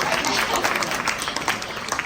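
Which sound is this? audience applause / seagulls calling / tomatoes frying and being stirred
audience applause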